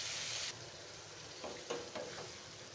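Pangas fish curry with stems and potatoes being stir-fried in a pan, a soft sizzle under a few scraping stirs of the spatula, quiet and close, after a brighter hiss fades early on.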